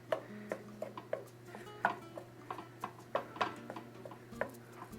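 A utensil fluffing cooked lime rice in a pot, making soft, irregular taps and scrapes against the pot in a loose rhythm, close and quiet, with no voices.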